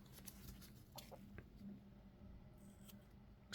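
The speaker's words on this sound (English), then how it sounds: "Let's just see how easy that would be with some scissors." Scissors snip through overhanging edges of reusable resin in a few quiet, close, separate clicks and cuts, spread unevenly across a faint, steady background.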